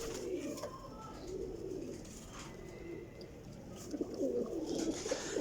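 Several high-flying pigeons coo in soft, repeated low throaty rolls, close and fairly quiet, with faint chirps and rustles around them and no one talking.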